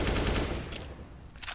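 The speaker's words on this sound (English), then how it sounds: "Mo sprays down Dennis, and the nades just go sailing harmlessly past Gambit in mid" Automatic rifle spray in CS:GO during a professional match between Gambit and Mousesports, a dense loud burst of rapid shots at the start that thins into scattered distant gunfire and short crackling bursts.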